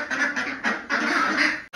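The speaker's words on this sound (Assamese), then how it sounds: "বৰ্তমান ইয়াতে হাঁহ আছে 44 পিচ এইফালে" Ducks quack loudly and close by in their pen, a steady run of harsh, overlapping calls for nearly two seconds with a brief gap just before the end.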